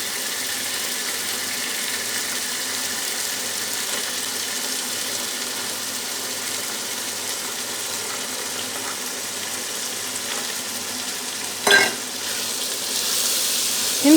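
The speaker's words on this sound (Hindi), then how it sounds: "चने डाल के इसको 2 मिनट भूनेंगे।" Boiled chickpeas fry with masala and keema in a pan, giving a steady close sizzle for the whole stretch. A brief sharp clink from a utensil comes near the end.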